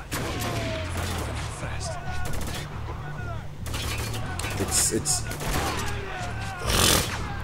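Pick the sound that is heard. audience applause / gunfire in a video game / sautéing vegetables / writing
gunfire in a video game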